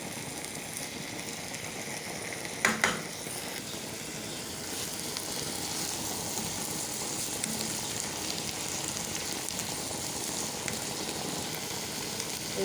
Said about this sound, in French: Je laisse mijoter 5 minutes.